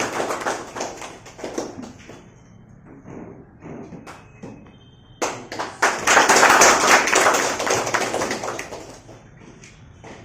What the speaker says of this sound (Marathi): त्यामुळे तिचं टाळ्या वाजवून स्वागत